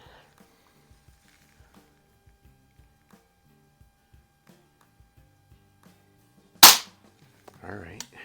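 A single sharp crack of a spring air rifle shot, a .177 Predom Lucznik or Geco Diana model 6, fired close by after quiet faint ticking, followed by a brief soft rustle.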